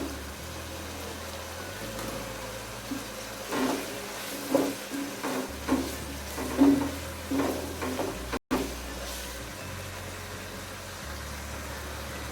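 Capsicum tossed into a hot pan and stir-fried for chicken and vegetable macaroni, giving a steady sizzle with repeated scraping stir strokes in a clear rhythm, close and moderately loud.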